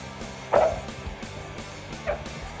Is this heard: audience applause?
no